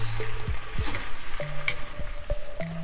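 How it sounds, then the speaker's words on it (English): Corned beef pasta with ketchup and sweet Thai chili being stirred in a pan: several quick spoon scrapes and knocks over a soft sizzle, close and moderately loud. "ketchup just a little bit we don't want to overpower it. Give that a quick stir."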